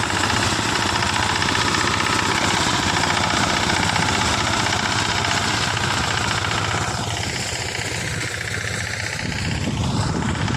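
A diesel-powered machine cutting a jowar crop in a field runs loud and steady throughout, a heavy continuous engine drone with rattling mechanical clatter and no break in the noise.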